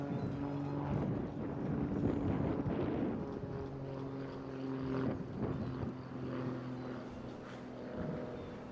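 A Grob Tutor trainer aircraft at the Eastbourne International Airshow, its propeller engine droning steadily with a rising and falling tone as it banks around for a departing pass, moderately distant over continuous background noise.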